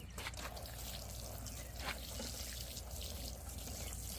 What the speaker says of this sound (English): Next I'm going to water them.